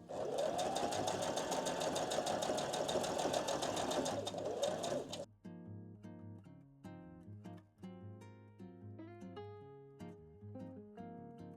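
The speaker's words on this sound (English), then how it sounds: "I'm going to stitch around the edges, and I'm going to stitch around the edge of the sun as well" A sewing machine stitches around the edges of felt pieces. A fast, loud mechanical whirr runs for about five seconds and then stops abruptly, leaving quieter scattered sounds afterward.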